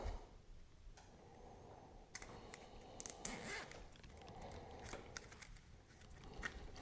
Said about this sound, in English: So now you have a connector protector secured with a red zip tie.